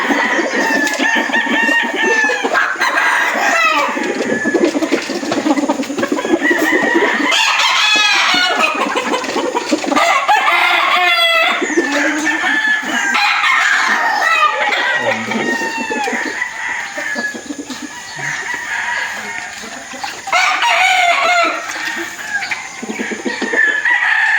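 Golden Boy gamefowl roosters and stags on a game farm crow repeatedly and cluck loudly and continuously, with several birds overlapping, while a voice speaks faintly at times.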